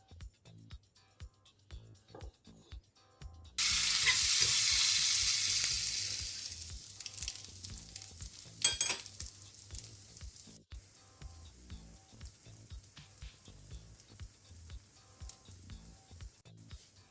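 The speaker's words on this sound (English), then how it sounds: "Now we are going to fry it." Ricotta pancakes fry in melted butter in a pan, opening with a loud, steady sizzle that gradually eases into quieter crackling and occasional scraping, with no talking.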